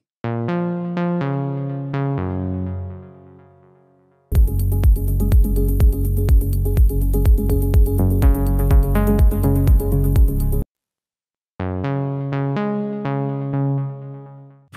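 Serum synth recreation of a main lead: plucky melodic notes ringing out, then a full section with driving kick pulses and bright layered synths, a pause, and the pluck line returning, with no talking.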